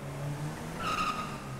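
A car in the game GTA, set in Los Santos, drives with a steady engine note and then skids, its tires squealing briefly but loudly in the middle, with no talk over it.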